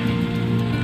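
Steady rain falling outdoors during a bird hunt with a slingshot-style air rifle, a dense continuous wash of drops, close and even throughout with no talk.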